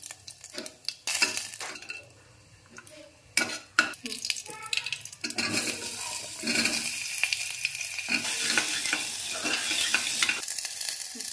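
Cumin seeds and bay leaf are dropped into hot oil and sizzle steadily, with a spoon stirring and clinking against the pan in a few sharp knocks early on before the frying settles into a continuous hiss.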